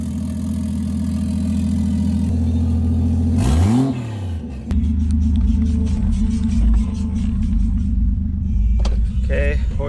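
A loud BMW E36 with a 1JZ engine swap drives close by, its engine rumbling hard, then revving up and dropping back during a brief shift before settling into a steady, heavy roar.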